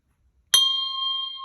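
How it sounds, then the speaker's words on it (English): A single bell is struck once during mindfulness practice, giving a sharp, loud attack followed by a long, steady, clear ring that keeps sustaining with little decay. Nothing else is heard apart from brief quiet before the strike. "adjust yourself to keep your ears safe as I ring this bell"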